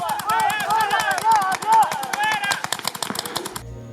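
Rapid bursts of paintball shots from a marker, one of an Empire Axe Pro, PE Gtek 160R or SP Shocker RSX, fire in quick rhythmic succession, loud and close, with a rumbling tone.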